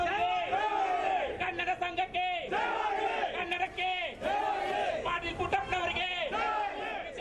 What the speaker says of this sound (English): A battle of slogans. One cheering Vidya Vardhaka and the other condemning the same.